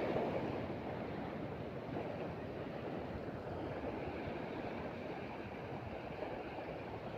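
Steady broadband wash of sea waves on the beach at La Union, with a continuous rumbling surf and some wind noise across the whole stretch, no voices.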